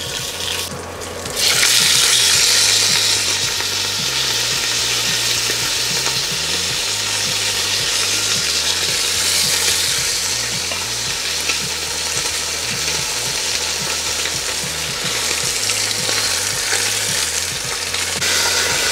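Pork browning flesh side down in a hot pot, a continuous loud sizzle with scraping stir sounds and clinks of turning, no talk.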